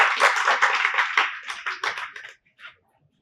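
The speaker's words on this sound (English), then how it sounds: "Please give him a round of applause." Audience applause at a talk on health, karma and Kundalini Yoga: a dense burst of close hand clapping for about two seconds that thins out and stops, leaving a final isolated clap.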